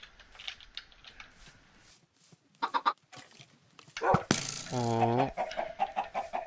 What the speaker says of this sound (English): Baby chicken, you ain't gonna try to go back up there?